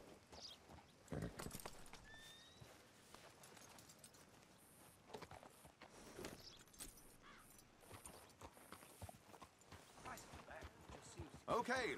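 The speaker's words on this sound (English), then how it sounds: "Come on, get on your horse then." Horse hooves clip-clopping and running in the Red Dead Redemption 2 video game, continuous and mid-distance beneath game music and ambience, with a brief whinny-like sound and people talking over it.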